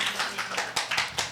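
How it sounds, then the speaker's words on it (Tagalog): A church congregation claps quickly during a Filipino sermon, a brief burst of several sharp, uneven claps that rise and fall over about a second. "Pwede bang pumalakpak muna ng mabilisan lang para sa Panginoon?"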